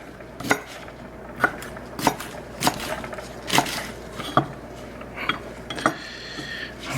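Chinese broccoli is chopped on a wooden board, a knife striking in sharp, evenly spaced thuds about every half second, close and fairly loud with a faint hum behind, no one speaking.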